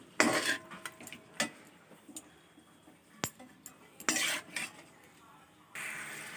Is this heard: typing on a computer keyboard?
no